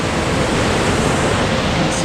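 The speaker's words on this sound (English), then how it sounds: "Finally reached the base of Parvati river" Steady broadband rush of the Parvati river at its base on a mountain trek, a dense continuous roar with no breaks, close and loud throughout.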